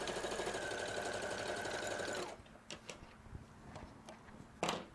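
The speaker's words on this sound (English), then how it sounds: "And we're now going to sew the other side." A sewing machine stitches quilt pieces in a fast, steady whir for about two seconds, then stops, leaving quiet handling noises and small clicks of fabric being moved.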